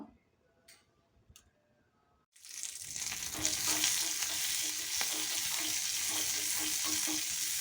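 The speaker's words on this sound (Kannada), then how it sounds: "ಈಗ ಇದಕ್ಕೆ ರುಬ್ಬಲಿಕ್ಕೆ ಸಾಸಿವೆ ಮತ್ತು ಜೀರಿಗೆ ಮೆಣಸನ್ನು ಹಾಕಿ ಎಣ್ಣೆ ಹಾಕ್ಕೊಳ್ಬೇಕು ಹಾಕಿ ಒಂದು ಸ್ವಲ್ಪ ಹುರ್ಕೊಳ್ಬೇಕು" Mustard seeds and cumin pepper hit hot oil after a quiet start of a couple of clicks, then a loud, dense crackling sizzle runs steadily to the end, close by with no voices.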